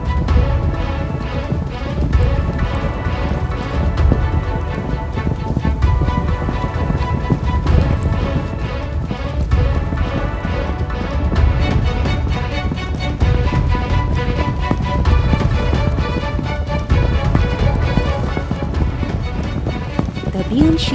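Several horses gallop out of a forest onto an open field, their hooves clip-clopping in a rapid, steady patter throughout, with a voice narrating and tonal music over it.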